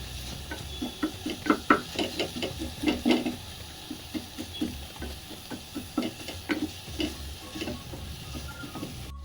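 A spoon stirs peas curry with pepper powder in a frying pan, giving repeated scraping clicks in an uneven rhythm over a soft, steady sizzle, close and clear with no talking.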